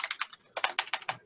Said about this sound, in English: I can hear you typing, Lisa